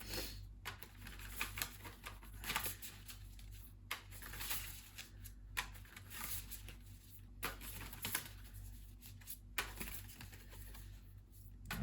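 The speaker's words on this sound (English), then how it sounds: "the cards are really hard to shuffle today" A deck of tarot cards is shuffled again and again, with soft papery riffles and taps repeating quietly and close up, and no talking.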